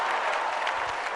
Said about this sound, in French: Applaudissez les baoulés s'il vous plaît.